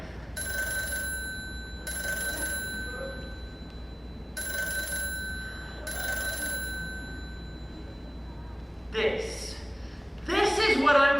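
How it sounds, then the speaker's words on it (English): A telephone bell rings in four evenly spaced bursts of about a second each, loud and bright, followed by voices speaking or singing near the end. "You manage to be happy for 5 seconds and then something starts ringing."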